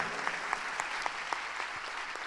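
Worshippers in a church break into fuller clapping, a dense steady applause with a few sharper individual claps standing out.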